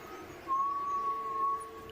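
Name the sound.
strange whistle in distance, video game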